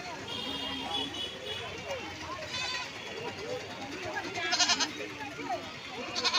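Goats bleat repeatedly at a crowded weekly goat market in Uluberia, a few calls standing out sharply near the end over steady crowd chatter and people talking nearby.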